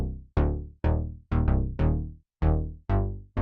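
Synthesizer notes shaped by an entropy EQ module that accentuates the sustain, eight or so tones each swelling in and ringing out in a steady, even melody, close and alone.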